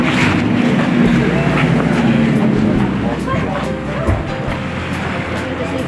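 An electric trolleybus drawing power from overhead cables at the Stanley Park loop in Vancouver hums along steadily, with a low motor drone and road rumble, close and continuous, partly masked by wind and street noise.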